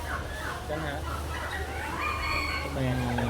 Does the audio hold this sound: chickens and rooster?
yes